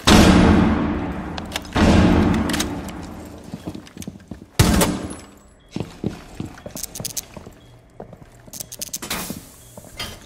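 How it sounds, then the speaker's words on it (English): A flashbang grenade in Rainbow Six Siege goes off with a sharp, loud bang, then another heavy blast follows, trailed by a scatter of close gunshots, thuds and clattering footsteps in an indoor ranked match. "Flashbang out."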